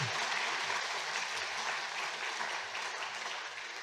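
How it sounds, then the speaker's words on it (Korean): A church congregation in Yongin applauds steadily during a Sunday service as certificates and gifts are handed out, a dense, even clapping that fades slightly toward the end. "수료종과 선물 드릴 때 박수로 맞이했습니다"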